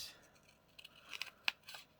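Scissors snip through cardstock while cutting out a card shape along a pencil line, a few short crisp cuts with one sharper snap near the middle, fairly close and quiet with no talking.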